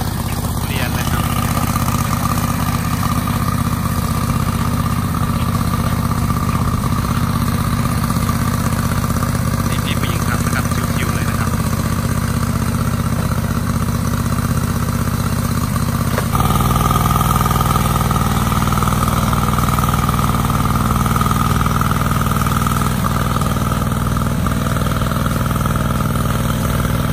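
A riding lawn mower running through a grass-cutting test at a customer delivery in Chanthaburi, a loud, steady engine drone that holds throughout and grows slightly louder partway through.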